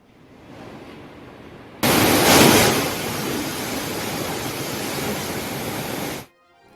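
Floodwater pouring out of the Srisailam dam on the Krishna river, a loud, broad roaring rush that starts suddenly, peaks briefly, then holds steady before cutting off, with no voices.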